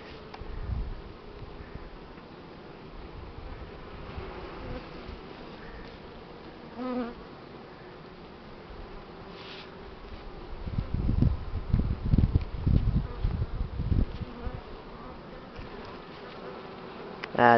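Buckfast honeybees hum and buzz around an opened hive during a spring inspection, a continuous close drone with louder swells and rustling of frames handled nearby, no voices.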